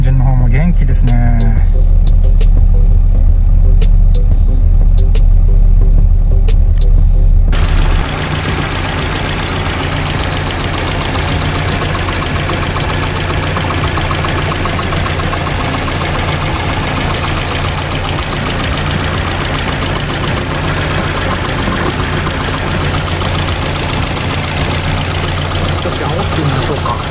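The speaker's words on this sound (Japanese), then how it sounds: "おエンジンの方も元気ですね。" A 4A-G engine swapped into a modified 42-year-old Toyota AE70 idles steadily close by, a loud continuous rumble after an initial louder burst, with someone talking over it.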